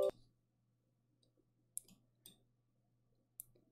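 A computer mouse clicks sharply a few times at irregular intervals in a quiet room, with a steady low electrical hum underneath.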